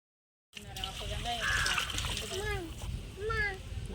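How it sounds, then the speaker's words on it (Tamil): Measured water is poured from the rice vessel into a large pot for beef biryani, a continuous splashing, trickling stream heard close, while people talk over it. "இப்போ தண்ணி ஊற்றிட்டுருக்காங்க அளந்து"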